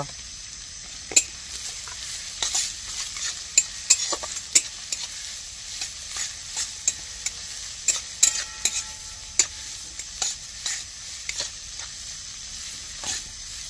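Garlic and ginger stir-frying in a pan: a constant hiss of frying broken by frequent sharp scrapes and clicks of a spatula against the pan, with no voices.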